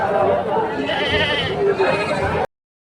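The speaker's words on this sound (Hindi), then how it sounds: "बकरी देखो बहुत बढ़िया बकरी है।" Goats bleat repeatedly and loudly, up close, at a busy livestock market in Garhwa, Jharkhand, with people talking underneath throughout.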